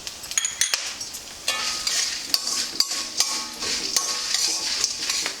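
Black pepper and cinnamon dry-roasting in a pan for spice powder, with repeated scraping and stirring clinks of a metal spoon against the pan over a faint sizzle, close and uneven in rhythm.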